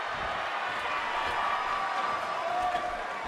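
Wrestling arena crowd in WWE 2K18 at a Liverpool show, a steady, dense murmur of cheering spectators filling the space, with commentators' voices faintly mixed in.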